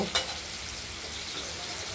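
Cut paneer pieces fry in hot oil with a steady, close sizzle and one short clatter at the start, with no talking.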